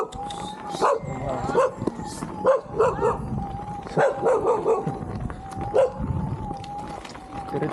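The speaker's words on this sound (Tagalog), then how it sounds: "Territorial talaga yung mga aso." Territorial dogs bark repeatedly on a rough, rocky mountain road up Mt. Balagbag, their yips and barks close by and coming in bursts over the steady hum of an electric unicycle.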